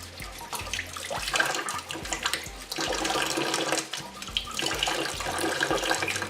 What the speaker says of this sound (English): we're going to run it under a tap and scrub it with a scouring pad